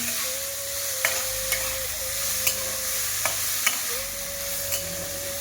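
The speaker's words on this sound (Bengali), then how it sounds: "একটু নাড়াচাড়া করে নেব। আলুটাকে একটু লাল লাল করে ভেজে নেব।" Potatoes frying in a pan while being stirred, a steady soft sizzle with a few light scrapes and taps of the spoon, close by, no talk.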